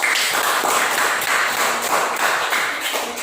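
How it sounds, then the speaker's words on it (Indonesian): A classroom of students claps for group 2, rapid overlapping hand claps that carry on steadily at close range with no talking over them. "tepuk tangan untuk kelompok 2"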